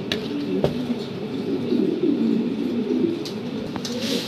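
Black Lahori pigeons coo in a pen, giving a close, low, throaty warble that rises and falls over a few seconds, with soft background noise and a couple of sharp clicks.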